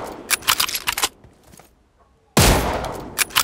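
Gunfire in PUBG Mobile comes as quick bursts of sharp cracks, then a short lull, then another loud volley of rapid shots.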